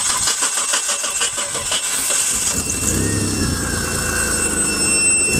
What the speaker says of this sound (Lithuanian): šis 3-litrinis variklis benzininis užsivedė